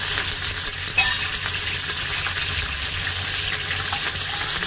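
Curry leaves sizzling in hot oil with spice masala for masale bhat, a loud dense close hiss and crackle throughout with a brief sharper spatter near the start.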